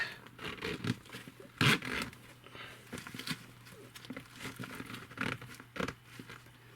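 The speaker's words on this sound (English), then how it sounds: "and zip this shut." Zipper on an Urban Worm Bag 2.0 composting bag being zipped shut, close raspy zipping in uneven bursts with crinkling fabric and a few sharper tugs, over a low steady hum.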